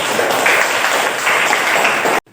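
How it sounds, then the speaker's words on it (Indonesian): A classroom of students applauds a student group with dense, steady clapping that rises and falls slightly in waves, then cuts off abruptly. "berikan aplaus kepada kelompok 2"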